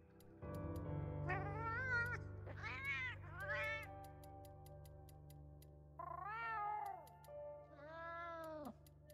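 A series of high-pitched, drawn-out cat meows from the video game Monster Hunter Wilds, about five in all, in uneven bursts over a steady low hum with faint ticking.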